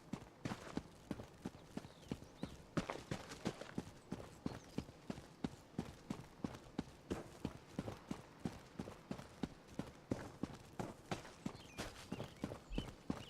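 Horse hooves loping at a steady, rhythmic clip-clop in the Elder Scrolls Online video game, each hoof strike sharp and evenly spaced across the whole stretch with no talking.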